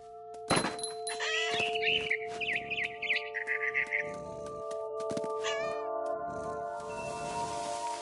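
A cat meows and caterwauls in a video game, with a long wavering cry followed by shorter mews and a few dull thunks over a steady tonal music bed, and a voice talking in places.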